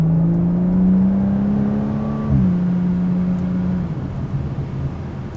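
Inside the cabin of a BMW F30 with a B58 engine and muffler delete in Sport Plus, a droning engine hum rises through the revs, drops with a gear change, then settles to a lower, rumbling cruise.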